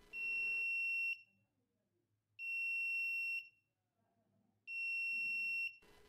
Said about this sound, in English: I'm going to cut off the power and let's see if the buzzer is going to turn on.